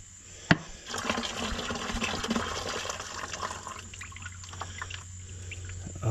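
Diesel fuel drains from an Oliver 1250 (Fiat 415) tractor, a steady trickling, splashing stream of liquid falling into a container, close and continuous after a brief knock at the start, with a low engine-like hum beneath.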